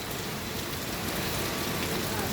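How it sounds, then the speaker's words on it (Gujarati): Rain pouring steadily, a dense even hiss of drops on surfaces, loud and unbroken with no distinct pattering. "વાહ વરસાદ વાહ"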